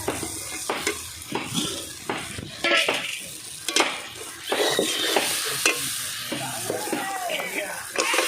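Duck meat goes into fried-down spices in a pan and is stirred, giving loud irregular scraping and clattering over a continuous sizzle, close up, with no talking.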